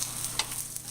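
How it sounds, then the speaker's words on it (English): Chicken omelet in a frying pan at the moment of flipping, a soft steady sizzle broken by a brief thump as it lands back, close and quiet, no talking. "Let me see if I can flip it."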